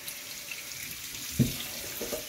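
Tap water running steadily into a sink to soak salted cod, a continuous hiss with a brief splash or clunk partway through, close by.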